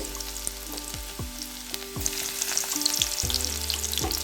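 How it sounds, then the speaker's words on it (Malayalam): Finely chopped garlic hits hot oil for a mango-ginger pickle, setting off a loud, continuous sizzle with crackling pops, plus a few scraping stirs and soft background music. "അപ്പോൾ എണ്ണ നന്നായി ചൂടായി വന്നിട്ടുണ്ട്. അപ്പോൾ നമുക്കിതിലേക്ക് ആദ്യം വെളുത്തുള്ളി ചെറുതാക്കി അരിഞ്ഞതാണ് ചേർത്ത് കൊടുക്കുന്നത്."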